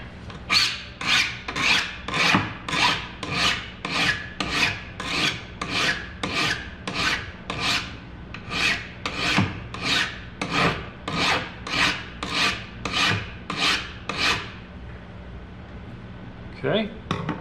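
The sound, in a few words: filing a 45-degree edge on wood for hinge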